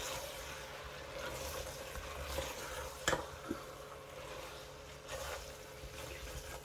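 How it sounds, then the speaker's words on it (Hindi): Fried okra being stirred gently into chicken in a pan, a soft steady sizzle with faint scraping and a couple of light utensil knocks. "और ये फ्राई की हुई भिंडी और हल्के हाथों से अब इसको मिक्स कर लें"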